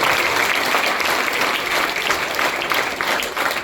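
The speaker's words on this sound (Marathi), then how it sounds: "सगळ्यात जोरदार तळे त्यांच्यासाठी वाजा" An audience at a parents' gathering claps in steady, dense applause that carries evenly from start to finish.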